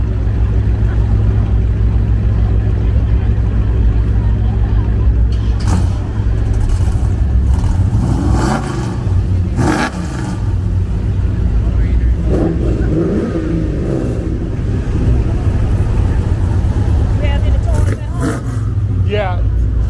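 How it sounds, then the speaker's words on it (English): A 1972 Chevrolet Chevelle at a car auction, its engine running loud and close with a steady low rumble and several swelling revs, while people talk nearby. "See what the Chevelle sounds like when it starts up."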